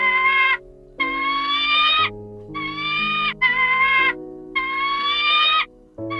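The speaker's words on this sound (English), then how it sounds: "G for goat. G for goat." Goat bleats from a children's phonics alphabet song, four loud wavering calls in quick succession with short gaps, set over a steady musical backing.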